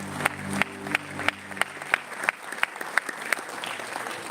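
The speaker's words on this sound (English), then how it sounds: "Let's give her a huge round of applause." At a Founders Day event, an audience applauds with steady, fairly distant clapping and distinct sharp claps that recur at an even rhythm, over a low tonal sound that fades after the first couple of seconds.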